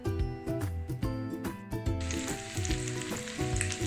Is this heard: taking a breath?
no